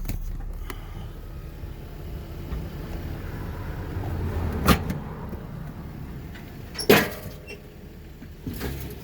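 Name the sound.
Lexus GS300 car being driven down off a trailer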